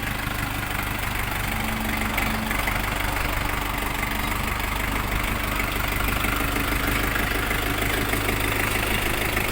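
A Jinma 404 mini tractor's diesel engine idles close by, a loud, steady low rumble with a fast chugging knock throughout.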